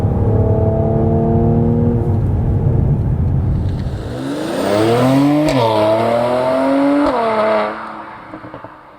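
A Mercedes-AMG C43 sedan engine revs loud and close, holding a steady note before climbing sharply in pitch through a couple of rising sweeps, then cutting off and fading to quiet rumble.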